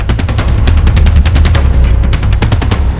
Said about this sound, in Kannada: Uncle, I want to burn crackers.